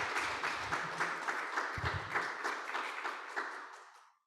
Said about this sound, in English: can I get a round of applause for our panelists here?